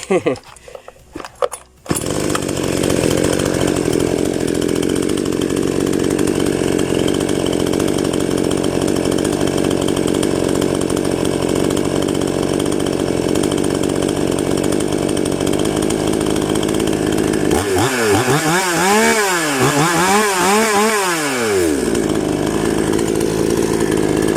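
A New West 6688i chainsaw engine idles loudly and steadily up close after a brief start, then revs up near the end while someone talks over it.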